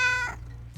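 A cat gives a single loud, drawn-out meow that falls in pitch and fades. It comes from a 1970s–1990s Halloween TV special.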